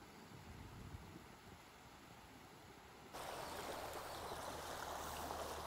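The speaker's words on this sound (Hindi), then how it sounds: "हो बहाव बहुत ही तेज़ है" A fast-flowing monsoon river on the Chilla road between Haridwar and Rishikesh rushes as a steady, broadband wash of water, faint at first and then noticeably louder and closer halfway through, with no voices.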